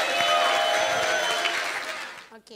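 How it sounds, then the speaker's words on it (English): A crowd at a talent show's regional finals in Nairobi applauds for young dancers, a loud, dense burst of clapping and cheering that holds steady, then fades out near the end. "So clap for yourselves."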